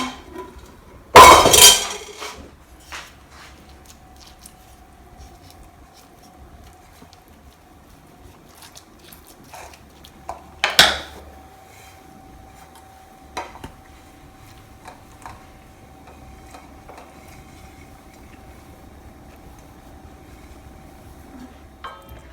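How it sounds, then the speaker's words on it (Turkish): Two sharp clattering knocks as a ceramic bowl and a metal pot are set down as weights on cheese, one near the start and another about ten seconds later, with a faint steady hum between. "Böyle bir kase koydum. Üzerine tencere koydum."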